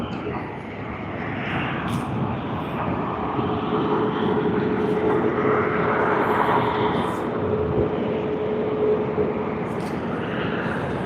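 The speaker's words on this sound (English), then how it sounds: "We have Fiji Airways departing to Nadi on its Boeing 737." A Fiji Airways Boeing 737 departs Sydney Airport, its jet engines a steady, broad roar at some distance that holds loud and even throughout, with faint brief sounds over it.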